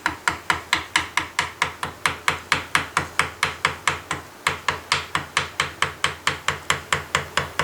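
A hammer strikes a carving chisel in a steady, even rhythm of sharp metallic taps, about three per second, close and loud with no talking.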